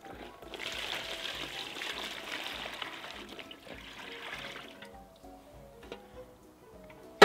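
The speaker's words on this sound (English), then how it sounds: "you just want to pour your cold water in" Cold water pours steadily into a bucket for several seconds, then thins to a trickle and a few drips, fairly close and moderately quiet.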